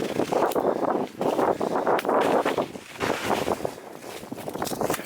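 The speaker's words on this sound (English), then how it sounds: "I have a feeling it's going to be awful windy out here" Strong wind gusts roar steadily across an open frozen lake in winter, loud and close with buffeting against the microphone and no voices.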